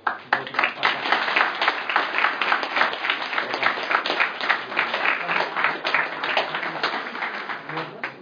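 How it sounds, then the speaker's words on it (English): An audience claps in a hall after a political speech and Q&A on Palestine, a sustained round of applause from a sizeable crowd with voices and chatter mixed through it. "And can we have a round of applause?"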